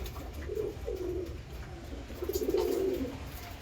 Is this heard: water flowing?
no